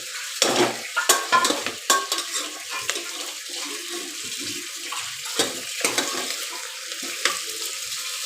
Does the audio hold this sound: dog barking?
no